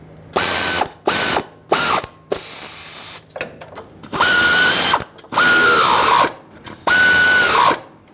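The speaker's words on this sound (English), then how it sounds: "I'm gonna get my air ratchet just to bottom everything out" Air ratchet run in repeated bursts while bottoming out exhaust manifold bolts on a 2011-2018 Ram 2500 with the 6.4L HEMI, about six loud, close whirring pulls with a rising whine, separated by short pauses and faint clicks.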